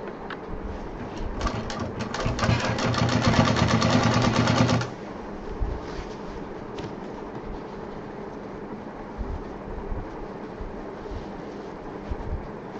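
A sewing machine stitches a large backpack, running fast and steadily in a loud mechanical rattle for a few seconds before stopping, leaving a quieter room with only low background noise.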